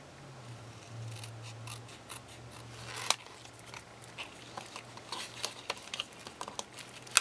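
Scissors snip through the bottom of a planner pocket, with soft, quiet crunching cuts close by that come more often and sharply toward the end, with no talking.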